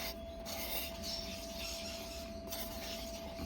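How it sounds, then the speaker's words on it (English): Excess mica powder being scraped off a surface in long raspy rubbing strokes, close and fairly quiet, with a steady electrical hum underneath. "just scrape that excess powder off"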